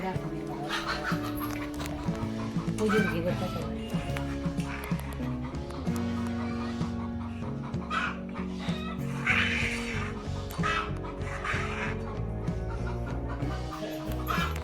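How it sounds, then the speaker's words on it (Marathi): Chickens cluck and squawk among overlapping voices and laughter, with a steady busy background of chatter throughout. "तुम्हाला आता कोंबड्या दाखवते मी आमच्या"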